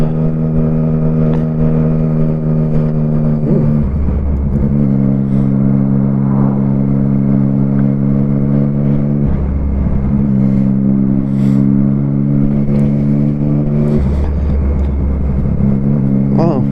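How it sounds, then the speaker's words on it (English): A Triumph Street Triple RX motorcycle engine at a steady mid-pitched drone while riding, dropping briefly three times as if between gear changes, then picking back up, with faint wind noise. "Triumph Street Triple RX, which is the model up from the R."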